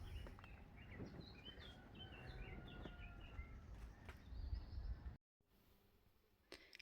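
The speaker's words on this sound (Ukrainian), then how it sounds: "Ви як пташки співають?" Small birds chirp and tweet outdoors in quick, faint, scattered calls over a low rumbling background, ending in a brief cut and quieter ambience.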